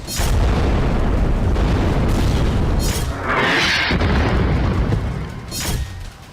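Loud, rolling booms from explosions in Gaza set off by Israeli robots sent toward buildings, several heavy blasts in quick succession with rumbling debris between them.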